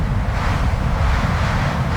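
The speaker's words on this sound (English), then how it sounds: "Mother Nature lets out one huge wind gust" A huge wind gust in a Midwestern storm roars steadily and loud for the full two seconds, a dense rushing wash with a low rumble and no break.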